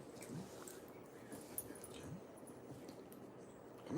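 A dog whimpers softly with a few faint yips over a low, steady room background, quiet and close, without clear speech.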